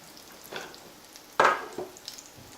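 Lentil burgers fry slowly in a pan with a faint, soft sizzle, broken midway by one sharp clack and a few lighter knocks.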